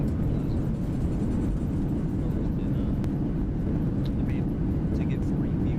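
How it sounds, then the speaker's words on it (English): Thrust reversers roar on a Boeing 737-900 during landing rollout in X-Plane 11, a loud, steady, broad engine rush filling the whole stretch with no break. "Reversers out, manual braking."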